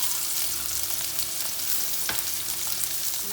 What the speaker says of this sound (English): While cooking the bhindi masala, you have to keep on stirring so it cooks thoroughly.